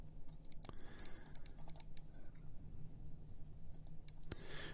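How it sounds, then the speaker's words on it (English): Computer keyboard typing, with a run of quick light key clicks in irregular bursts over a low steady hum, fairly faint and close, with no talk. "I need to start typing to edit the file."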